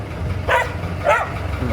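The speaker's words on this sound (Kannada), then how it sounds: "ಇಳಿಬೇಡಿ ಸರ್, ಕಚ್ಚಬಹುದು ನಾಯಿ" A dog barks at a garden home where a film shoot is set up, giving two sharp barks about half a second apart, fairly close, over low background rumble.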